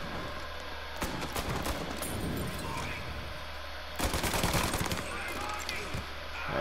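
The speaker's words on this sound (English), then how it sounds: "I got a damn Tommy gun." Tommy gun fire in Mafia: Definitive Edition, rapid automatic bursts crackling in repeated volleys with a louder burst near the end, mixed with game ambience and occasional talk.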